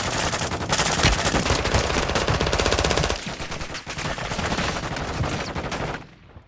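Sustained, loud automatic gunfire in a video game, a relentless rapid stream of shots that eases slightly midway before cutting off abruptly at the end.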